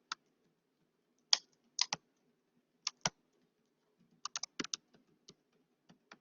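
Keystrokes on a computer keyboard come in irregular clusters of sharp, close clicks: a few isolated taps, then a quick burst of several keys near the end, with no talking.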